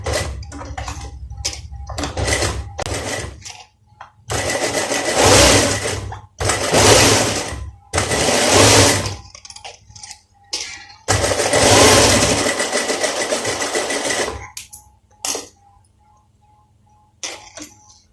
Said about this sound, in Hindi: दोनों पट्टियों पे हम ऐसे सिलाई लगा के इनको तैयार कर लेंगे।